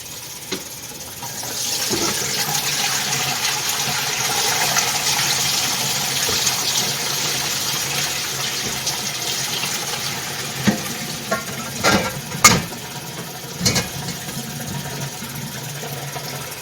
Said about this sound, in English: I'm just going to set it in the sink and pour the water through there